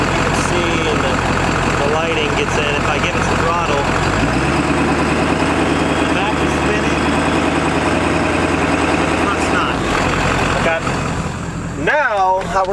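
Ford OBS Power Stroke diesel truck revving under throttle as its rear tire spins, a loud, steady engine drone that deepens and holds before easing off, with someone talking over it.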